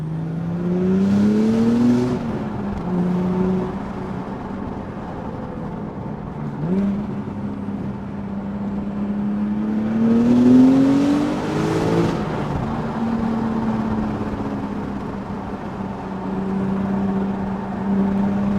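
A 2018 Porsche 911 T in Sport Plus mode driving on twisty back roads, its engine revving up and down through repeated rising and falling pulls, loud and close, with brief shifts and steady road noise between.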